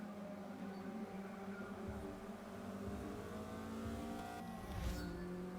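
A Mazda Miata races in the Forza Motorsport 6 video game, its engine a steady, sustained drone that swells slightly near the end, with no talking.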